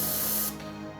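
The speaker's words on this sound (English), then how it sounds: "You can move the polyester fiber fill around while you're spraying through it" An airbrush sprays paint through polyester fiber fill, a close, steady hiss that cuts off halfway through the second and leaves a softer airy tail.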